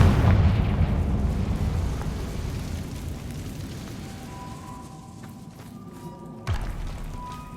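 A Confringo fire-blast spell explodes in the Hogwarts Legacy video game, a loud rumbling boom that decays slowly over several seconds, followed by a smaller thud near the end, with no talk over it.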